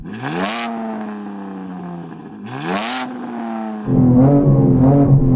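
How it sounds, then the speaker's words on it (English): Engines of a Bugatti Chiron Super Sport and a 1,000 hp BMW revving while parked: two loud, sharp throttle blips rise and fall one after the other, then a deeper, rougher engine burbles steadily at close range. "Yanni, rev up your car"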